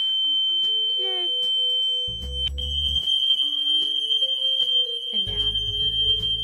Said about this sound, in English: the building fire alarm goes off.